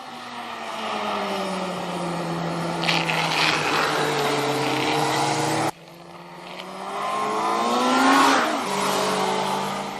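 A Suzuki Hayabusa or Kawasaki ZX-12R sport motorcycle accelerating hard out of a corner, loud engine howl climbing steeply in pitch through the gears, then cutting and surging again in a second rising run.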